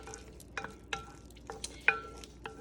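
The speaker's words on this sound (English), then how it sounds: "we're gonna let these saute, get a little bit of color in them" Onion and bacon sauteing in a pan for pasta carbonara and being stirred with a wooden spoon, giving quiet, scattered clinks and scrapes over a faint sizzle, with no talking.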